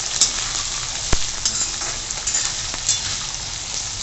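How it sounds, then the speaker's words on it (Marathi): Potatoes frying in a pan for cabbage bhaji, with a loud, dense, continuous sizzle close up and a few light stirring scrapes. "बटाटा पण छान परतून घ्यायचा"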